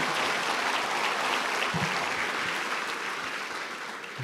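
Sustained applause from a church congregation, many hands clapping in a thick, even wash that eases slightly toward the end, with a few faint background voices.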